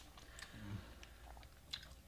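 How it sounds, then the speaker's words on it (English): A keto snack is chewed close to the mic in a few soft, moist, faint bites and crunches spread over a couple of seconds. "I'm still chewing."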